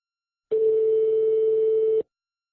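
A steady electronic telephone tone from an iPhone placing a voice-controlled call sounds alone, holding one pitch for about a second and a half before cutting off cleanly.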